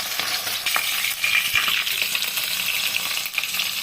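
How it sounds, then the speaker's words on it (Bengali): Boroli fish frying in hot oil for a Bengali fish curry, a steady bright sizzle that stays close and fairly loud throughout, with a few faint scraping clinks of a utensil against the pan. "অল্প অল্প করে দিয়ে ভাজবো মাছগুলোকে"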